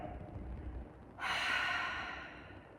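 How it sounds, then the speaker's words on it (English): A person exhales through an open mouth with an audible HA during a gentle yoga flow, a single breathy sigh that starts abruptly, swells and fades over about a second and a half, close and alone. "open the mouth, make an HA sound as you exhale"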